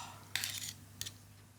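Metal tongs and a spoon clink against a plate while twisting Dan Dan noodles into a mound, two short bright scrapes about half a second apart over a quiet background.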